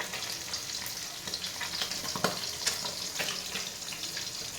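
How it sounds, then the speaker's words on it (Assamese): Green peas frying in a pan, a steady dense sizzle with a few sharp crackles and stirring scrapes, close and continuous with no talk. "অকণমান ইয়াতে মটৰটো ভাজিম"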